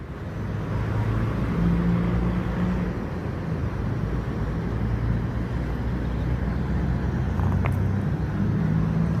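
Coach buses rumble past, including a Tronton sleeper bus and one with a Patriot body, as a steady, loud engine drone and road roar with low tonal hums that hold for the whole stretch.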